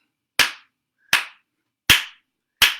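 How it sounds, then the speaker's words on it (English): Four sharp group claps land at an even, steady spacing on the backbeat of a gospel freedom song, each one crisp and alone against silence. "So you can clap not on 1 and 3, on 2 and 4."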